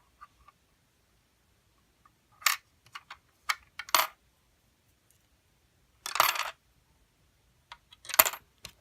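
Dimes drop into a LEGO vending machine as a few separate clusters of sharp metallic clinks and rattles, irregularly spaced with silent gaps between them, close and fairly quiet.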